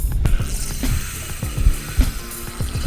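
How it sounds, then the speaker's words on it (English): A fishing reel's drag clicks in quick, uneven ratcheting bursts as line pulls out during carp fishing on a big river, close and clear with no talk. "I could just hear the drag pulling"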